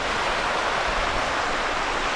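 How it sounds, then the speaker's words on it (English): Mild rapids on the Lehigh River in Lehigh Gorge State Park, Pennsylvania, give a steady, full rushing roar of moving water, close and even, with no voices. "So you got some nice mild rapids."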